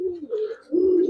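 Giribaz pigeons cooing in a pair of low, throaty phrases separated by a short pause, close and clear with no talking.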